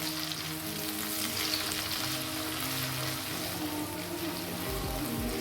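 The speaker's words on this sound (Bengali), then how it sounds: "তো সবজিগুলোকে খুব ভালোভাবে ভেজে নিব।" Steady close sizzling as vegetables and potatoes fry in a pan, a constant crackling hiss with no talk.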